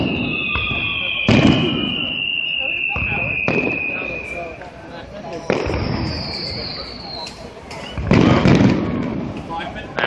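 Fireworks on July 4th at Redondo Beach, with loud booming bursts and crackling reports at irregular intervals, some whistling launches rising between them, and people talking and exclaiming nearby.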